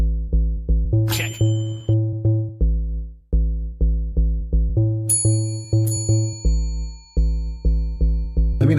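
A bell rings in a steady, rhythmic run of resonant metallic strikes with sustained overtones. A few brighter, higher chimes cut through near the start and again partway along, with no voices.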